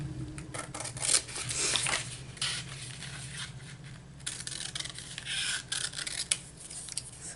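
Scissors cutting out a thick paper journal card, with a run of close, quiet snips and rasping paper rubs, some pauses between strokes.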